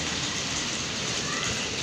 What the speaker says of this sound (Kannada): ಫುಲ್ಲು ಜೋರಾಗಿ ಮಳೆ ಬರ್ತಿದೆ, ಗುಡುಕ್ತಿದೆ.